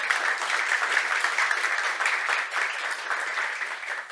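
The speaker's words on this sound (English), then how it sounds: "really big applause to our panelists" An audience applauds panelists at the close of a discussion, steady dense clapping for a few seconds, fairly close and even throughout.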